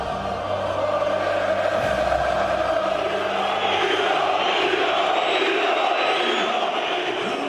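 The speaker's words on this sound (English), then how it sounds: "Inside the ground, the crowd were coming to the boil." Football stadium crowd of Serbian and Croatian fans roaring in a continuous chanting din, loud and massed throughout with rising and falling voices.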